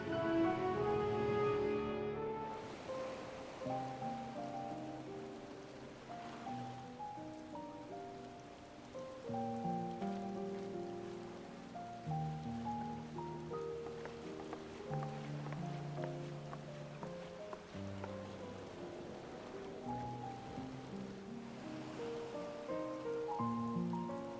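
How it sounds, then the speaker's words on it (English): Steady rain falls in the Final Fantasy XIV video game, a soft continuous hiss running throughout beneath a melodic game music score, with no talking. "Rain."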